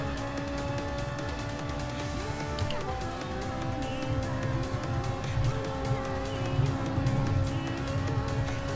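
A Ferrari race car engine in the video game Gran Turismo Sport, a steady high-revving tonal drone with a brief gear shift dip, shifting pitch as it accelerates, fairly faint and continuous.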